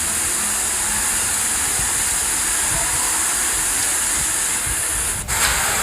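Onion pakodi sizzle in hot oil with a steady, close hiss and faint crackle that holds at an even level throughout.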